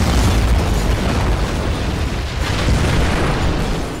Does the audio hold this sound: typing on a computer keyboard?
no